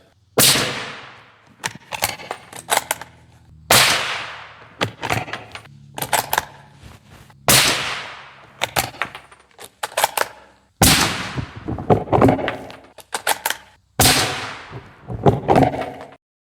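A suppressed Ruger American rifle with a 16-inch barrel fires 125 grain FMJ rounds, giving six sharp, loud reports spaced a few seconds apart, each followed by mechanical clicks and clatter from working the bolt.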